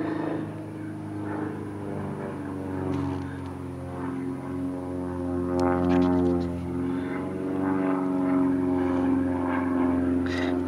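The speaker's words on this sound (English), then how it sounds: "There is some stupid plane flying above me." Propeller airplane droning overhead, a steady low harmonic rumble that slowly rises in pitch and loudness as it passes, heard alone and fairly near.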